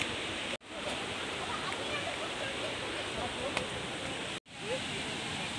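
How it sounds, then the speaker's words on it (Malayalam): Water rushes steadily at Meenmutty waterfall, a dense, unbroken roar that sounds close and loud and fills the clip except for two brief dropouts. "ഈ സൈഡിലൂടെ നമുക്ക് വെള്ളം വരുന്നത് കാണാം."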